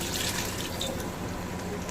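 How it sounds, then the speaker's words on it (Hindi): Water poured into a cooking pot of rice gives a steady, close splashing trickle that runs without a break. "तो मैं इसके अंदर कर दूँगी बस पानी ऐड।"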